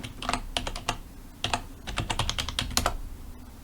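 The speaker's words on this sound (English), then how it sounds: "Sudo, and then type in my password." Quick clusters of close keyboard clicks as a password is typed on a computer keyboard at a Linux terminal, in uneven bursts of keystrokes with short pauses between them and no speech.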